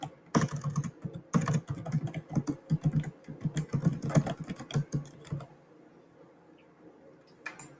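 A comment is typed on a computer keyboard, rapid close clicking keystrokes in an uneven rhythm for about five seconds before stopping, with near silence after.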